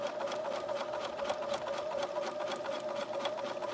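A home sewing machine stitches fabric for a neck pillow, running steadily and fairly close with a fast, even mechanical whir and rapid needle rhythm throughout, no talk over it.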